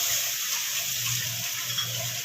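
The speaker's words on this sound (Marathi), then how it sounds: "ह्याच्यामध्ये मी 1 वाटी थोडंसं पाणी घालणार आहे" About a bowlful of water is poured into a pan of sautéed vegetables while making Maggi, a brief, close gushing splash with a faint sizzle and no talking.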